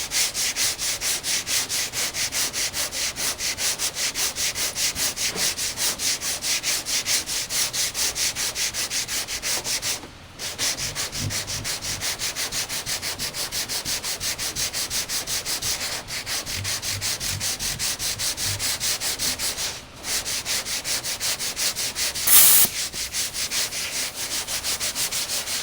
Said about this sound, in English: Notice I'm cross-sanding,